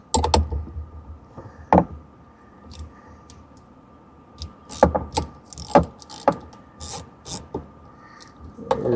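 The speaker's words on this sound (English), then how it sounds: "Break it loose with a ratchet." A ratchet breaks loose a bolt while a Kawasaki STX 15F jet ski is being worked on, giving scattered close clicks and a few sharp snaps over a low hum.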